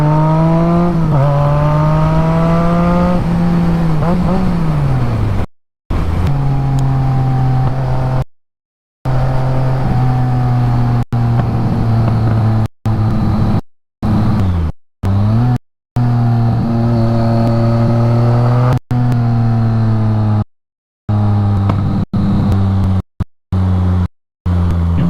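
A BMW motorcycle engine on a long-distance ride drones loud and close, its pitch climbing and dropping through gear changes, broken into short segments by abrupt cuts.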